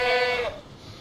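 A goat in the video game Far Cry 3 gives one loud, close, wavering bleat that trails off into quiet game ambience.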